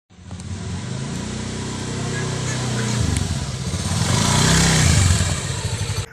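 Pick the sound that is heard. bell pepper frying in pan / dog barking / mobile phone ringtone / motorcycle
motorcycle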